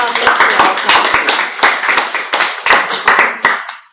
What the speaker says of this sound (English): Let's give a round of applause to our company.